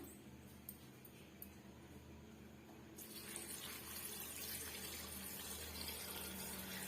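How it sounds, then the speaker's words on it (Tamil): Water runs steadily into a cooking pot while spinach curry is made in a home kitchen, a faint continuous splashing and gurgling that grows slightly fuller about halfway through, with no talking. "இப்ப மீடியமான அளவுக்கு நம்ம தண்ணி சேர்த்துக்கலாம்"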